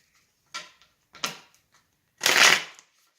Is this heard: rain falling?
no